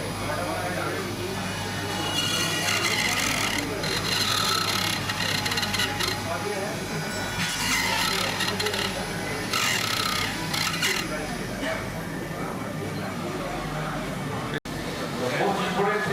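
A surgical drill grinds into a 3D-printed temporal bone during a dissection workshop, a close, continuous whirring burr with intermittent harsher bursts while someone talks over it.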